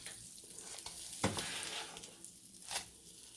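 French toast frying in butter in a pan, a soft steady sizzle close by with a couple of brief louder spatters, quiet and without talking.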